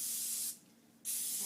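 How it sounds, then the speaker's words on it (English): Pam cooking spray hisses onto a shaped bread dough cornucopia in two close, steady bursts split by a brief pause. "So I like to coat the whole, this whole object entirely with the Pam spray or with your butter olive oil spray."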